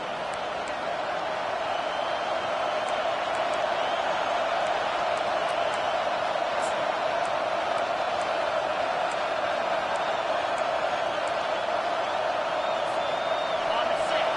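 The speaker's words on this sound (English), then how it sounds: "Here comes this home crowd as the defense tries to get off the field on third down" A home stadium crowd at a Florida State vs Texas college football game roars in a sustained wall of cheering, loud and unbroken, with scattered whoops and whistles rising above it.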